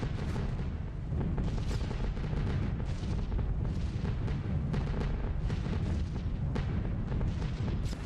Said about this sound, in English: Oh, here comes the flak once more.